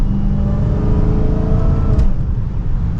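Dodge Charger SRT Hellcat Widebody V8 engine heard from the driver's seat while driving, a loud steady rumbling drone with layered harmonic whine, continuous for the whole stretch with no talking.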